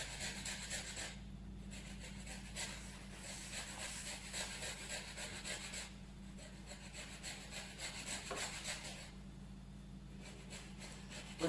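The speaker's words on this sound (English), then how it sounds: "So she's going to zest the lemon into the egg and oil mixture." A lemon is rubbed against a grater to zest it into an egg and oil mixture while baking an Easter treat, giving steady, continuous rasping scrapes with short pauses, close and alone without talk.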